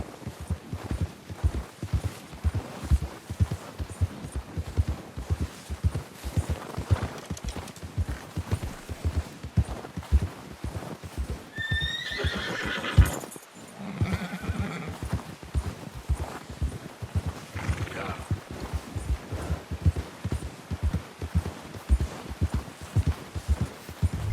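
Horse hooves clip-clop steadily at a walk or trot through Red Dead Redemption 2, with one brief neigh partway through. The game sounds are continuous and fairly loud, with no speech over them.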